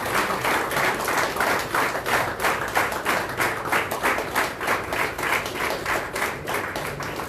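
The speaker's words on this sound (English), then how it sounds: "A round of applause, please." A crowd at a football club jersey unveiling event applauds steadily, dense rhythmic clapping at moderate volume with no talk over it.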